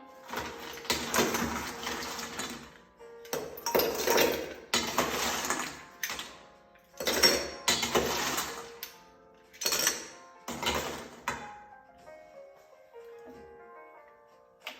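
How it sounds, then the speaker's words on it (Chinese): Ice goes into a tulip-shaped hurricane glass while a Sex on the Beach cocktail is being made: a series of close, bright clattering and clinking bursts, with short pauses between them and a fading rattle at the end. "加入冰"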